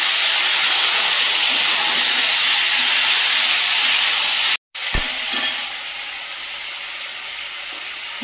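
Papaya and potato pieces frying in a hot pan with black cumin and bay leaves, giving a steady loud sizzle and hiss that drops briefly, then continues slightly softer.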